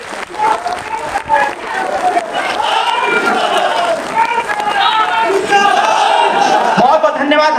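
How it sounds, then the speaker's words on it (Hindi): A large auditorium crowd at a political party meeting in Lucknow breaks into loud, sustained applause to welcome the chairman, with cheering voices mixed into the clapping throughout. "जोरदार ताली बजा करके स्वागत कर दीजिए।"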